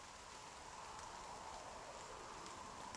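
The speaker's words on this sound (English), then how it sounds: "I'm surprised it rains in the cage." Steady, faint rain hiss falls continuously in the NieR Reincarnation video game, an even wash of patter with no distinct drops standing out.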